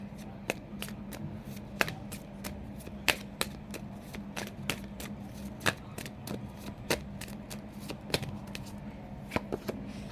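Someone shuffles an Archangel tarot card deck, producing soft, quick riffling snaps and taps in an irregular rhythm, close but faint over a low background hum.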